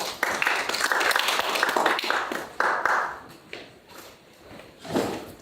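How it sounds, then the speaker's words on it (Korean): Audience applause at a Korean economics forum event, a steady burst of clapping from a roomful of people that fades and then swells briefly again near the end. "박수 부탁드립니다"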